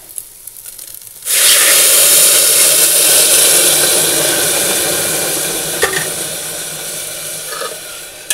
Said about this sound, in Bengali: এই যে একেবারে ফোড়ন দিয়ে বসিয়ে দিলাম, বেশি ভাজবো না